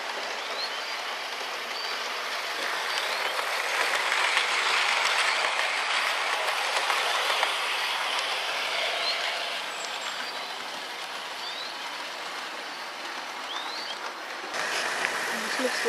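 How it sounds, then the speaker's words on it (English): A measurement train on a model railway runs past, a steady close rumble and clatter of wheels on track that swells midway, then eases and stays level until the end. "move down the platform a bit to see a fast train go through"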